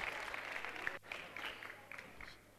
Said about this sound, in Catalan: Vinga, un aplaudiment pel nen, sisplau.